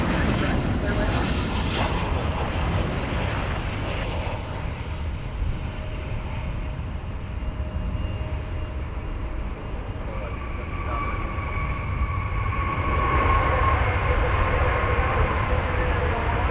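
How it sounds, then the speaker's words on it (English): An Alaska Airlines Boeing 737-900 arriving from Portland roars steadily on approach at DFW Airport, a broad, loud engine rumble with wind noise that swells slightly toward the end. "we're about to see Alaska Airlines Flight 392 coming in from Portland"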